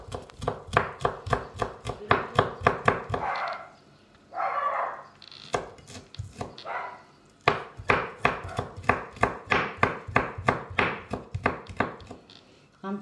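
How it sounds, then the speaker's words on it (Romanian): Garlic chopped finely with a knife on a board for a Hungarian-style green bean dish: loud, close, rapid rhythmic knocks in long runs, broken by a short pause with scraping and brief quiet talk. "Am tocat usturoiul"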